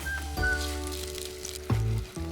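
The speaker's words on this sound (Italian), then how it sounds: "Metto in una pentola dell'olio extravergine di oliva, aggiungo la cipolla tritata finemente" Finely chopped onion sizzles softly in extra virgin olive oil in a pot, a faint steady frying hiss with a few clunks of utensils, and no one speaking.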